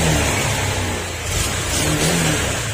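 A Honda Click 125 scooter engine runs close and loud, with a rough, continuous mechanical roar that swells and dips slightly as it revs.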